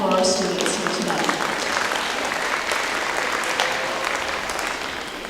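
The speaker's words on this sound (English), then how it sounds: "So let's give a round of applause to you for being that for our students here tonight." A gala audience gives a sustained round of applause at an evening school awards event, dense clapping filling the room from start to finish and fading slightly toward the end, with a voice briefly heard at the start.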